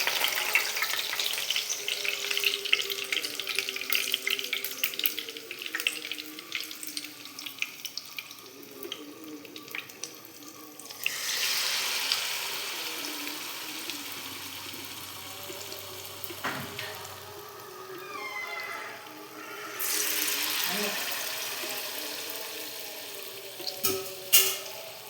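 Banana fritters (pazhampori) frying in hot oil: a soft, steady crackling sizzle that swells into louder hissing bursts twice as batter-coated pieces are dropped in, heard up close with no talk.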